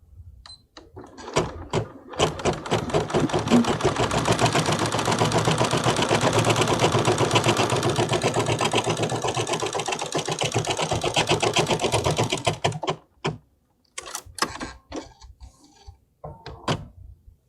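A Bernina embroidery machine stitches applique fabric in a fast, steady mechanical rattle lasting about ten seconds, close and loud, then stops and gives a few short clicks and taps.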